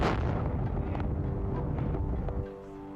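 A fourteenth-century style gunpowder cannon fires, a single deep, heavy boom that rumbles and rolls on for about two seconds before cutting away to a low hum, loud and close.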